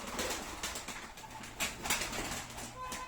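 Arab breed pigeons coo in low, soft calls over a steady background hum, with a few brief flutters mixed in.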